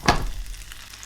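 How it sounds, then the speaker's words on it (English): Monte Cristo sandwich dropped into hot butter in a pan, a brief loud sizzle on contact settling into a steady, quieter frying crackle. "now we just need to fry that for several minutes on each side"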